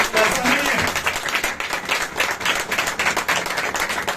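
Church congregation clapping for Jesus, a dense wash of applause spread through the room, steady and fairly loud across the whole stretch with voices mixed in.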